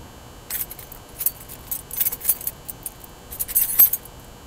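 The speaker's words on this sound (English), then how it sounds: "Here are the keys to Hellavision. Take them." A bunch of keys jangles as it is handed over, giving bright metallic clinks and rattles in several quick bursts, close and fairly loud, with no voices.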